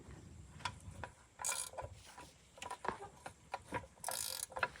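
Ratchet strap being tightened on metal over-the-tire skid steer tracks: a few sharp, close ratcheting clicks and pawl snaps at an uneven pace, with scraping strap noise between them and no talking.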